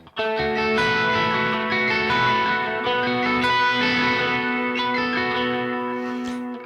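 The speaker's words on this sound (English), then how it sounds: "It's a little too much delay, reverb." Electric guitar on the bridge pickup through an amp at the edge of breakup, drenched in heavy delay and reverb, ringing out sustained chords and a held note that wash and trail steadily throughout with no one speaking.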